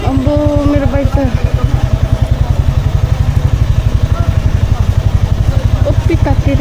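A motorbike engine thrums with a fast, even pulsing beat while being ridden uphill on a busy Sunday road in Jorethang, loud and close, with someone talking over it.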